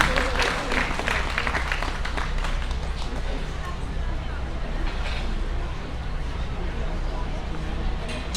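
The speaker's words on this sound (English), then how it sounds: "once again, a big round of applause for Ryan Rash" Audience applause at the Arizona National livestock show grand drive, a sustained crowd clapping in a large arena over low rumble and crowd babble, with a voice heard over it.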